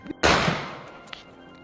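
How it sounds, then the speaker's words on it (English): A pump-action shotgun fires a single loud, close blast that booms and decays over about a second outdoors, with a faint click just before and no talk. "Denise, how you feel about shooting that pump?"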